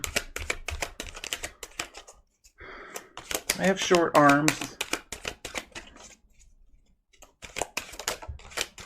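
Rapid papery riffling of a deck of cards being shuffled, steady and close, with a brief spoken phrase breaking in partway through before the shuffling resumes.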